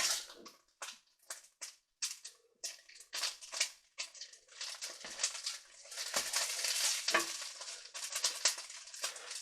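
Cubed pork sizzles and fries in a pan in irregular bursts of crackling and stirring noise, fairly quiet, without talk.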